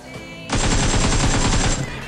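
Loud, close automatic gunfire in BGMI: one continuous burst of rapid shots lasting over a second, fired as pre-fire at an enemy around a corner.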